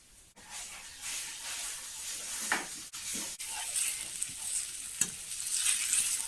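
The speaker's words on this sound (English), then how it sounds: "I'll allow this to cook for 2 to 3 minutes" A sardine pepper soup mixture cooks in a pot with a steady, close sizzle and hiss, broken by a few brief stirring scrapes, with no voices.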